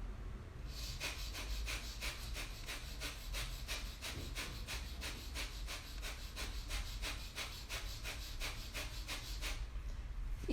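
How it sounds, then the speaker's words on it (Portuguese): Rapid abdominal breathing demonstrated as quick, forceful breaths through the nose, a steady run of about two dozen evenly spaced, close huffing pulses with no talking. "E a respiração acelerada é você fazer isso coordenando a movimentação de maneira rápida."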